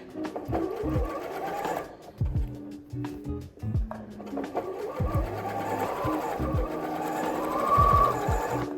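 A Bernina 38 sewing machine runs at a quick, steady stitching pace, its rapid mechanical whir close and continuous, easing briefly near the two-second mark before picking up again.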